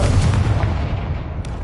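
A Confringo fire-spell explosion from Hogwarts Legacy on PlayStation 5 lands as a deep, booming rumble that starts loud and fades away over about a second and a half.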